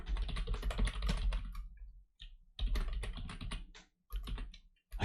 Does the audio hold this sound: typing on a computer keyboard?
yes